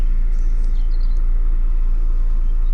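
A 2.0-litre Mazda MX-5 Sport engine idles close by, a steady deep low rumble with a faint higher whine, continuous and alone without talk.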